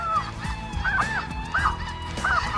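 Snow geese and Canada geese honking repeatedly from a flock in Manitoba, loud and close, several rising calls layered over a steady background din.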